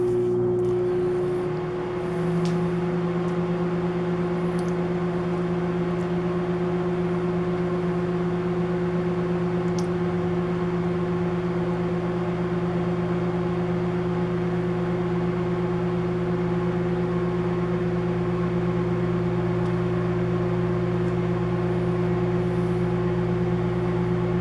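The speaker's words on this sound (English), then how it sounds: "I'm going to throw this in the microwave for 30 seconds" A microwave oven runs steadily while heating a quick mug cake, a continuous hum with a strong steady tone that starts after a brief click and holds evenly throughout, fairly close and alone.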